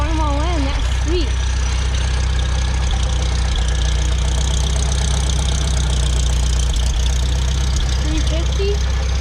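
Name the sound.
antique Farmall diesel tractor engine idling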